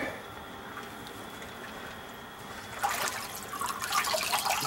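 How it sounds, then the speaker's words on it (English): Gravel scooped out of water in a bucket or pan during winter gold prospecting, a faint trickle that turns into louder wet scraping and splashing in the second half, close by with no voices. "I'm just going to scoop the gravel out of here."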